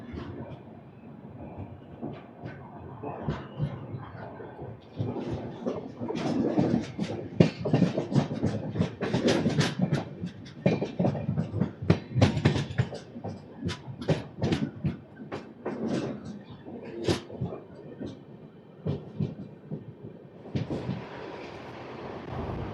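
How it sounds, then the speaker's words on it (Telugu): Visakhapatnam-Nanded Super Fast Express train pulling out after a halt and gathering speed, a steady rumble broken by repeated rhythmic wheel clatter and clicks over the rails, loud and close throughout. "ఒక 2 మినిట్స్ హాల్ట్ తర్వాత మన ట్రైన్ అయితే స్టార్ట్ అయిపోయింది."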